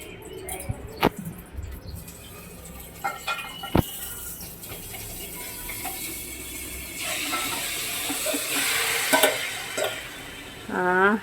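Marinated chicken cooks in ghee in a pot for chicken dum biryani, with utensil clatter and scraping at first, then a steady, building sizzle and frying hiss that grows louder toward the end.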